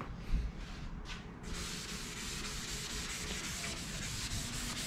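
Sanding of a hail-damaged body panel on a 1988 Toyota Supra, feathering the dents, makes a steady close abrasive hiss that grows denser after a brief start.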